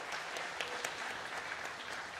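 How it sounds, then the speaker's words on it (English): A church congregation claps steadily for people coming up to share testimonies, a broad, even wash of applause lasting the whole moment, with no talk over it. "You can give them a little clap as they come up here."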